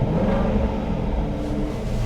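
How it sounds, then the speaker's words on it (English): A Jaguar XE SV Project 8's exhaust, in noisy mode, rumbles deep and throaty, steadily and loudly, a continuous low growl without pauses. "We put the noisy exhaust button on."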